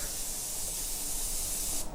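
Continuous loud hiss of a spray gun laying paint colour onto a masked-up car in a custom paint job, steady and close for the whole stretch, cutting off right at the end.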